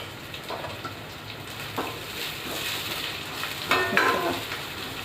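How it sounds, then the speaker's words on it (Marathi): Onion and mutton fry in oil in a home kitchen pan, a soft continuous sizzle with occasional stirring scrapes, fairly quiet and close. "असं छानसं असं भाजून घ्यायचं."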